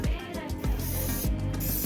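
Short hissing spray bursts of glue accelerator repeat in quick succession, up close, several pumps of a spray nozzle during a fabric car seat repair, with no talking.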